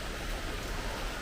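Steady rain falling outdoors along a roadside while waiting for a bus, a continuous even hiss that stays fairly faint and unbroken throughout.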